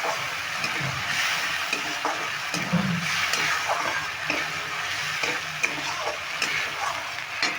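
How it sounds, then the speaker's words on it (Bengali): Spice paste loosened with a little water sizzles and crackles in a pan for a banana-flower kofta curry, a steady close frying hiss broken by repeated scrapes of stirring. "আমাকে মশলাটাকে ভালো করে কষিয়ে নিতে হবে"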